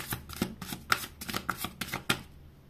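Oracle cards are shuffled and drawn by hand, with a run of quick, crisp riffling snaps and soft card slaps close to the mic, irregular in rhythm, with no talking.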